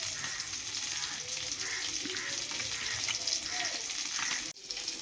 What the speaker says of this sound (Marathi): ह्यासाठी आपली मच्छी तव्यावर फ्राय होत आहे.